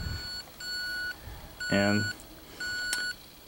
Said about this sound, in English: there goes our alarm